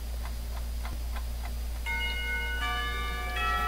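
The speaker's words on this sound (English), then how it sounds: "When the final bell sounds" An electronic school bell in the visual novel Katawa Shoujo chimes over a steady low hum, sounding a set of clear tones that stack up and ring out over the last couple of seconds, after faint regular ticking.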